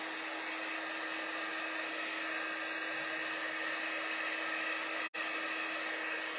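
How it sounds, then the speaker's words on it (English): A hair dryer blows a steady, even whir for several seconds while drying watercolor paint on foil, broken by one very brief cut-out near the end. "it kind of moves around and spreads as I'm doing it with the dryer."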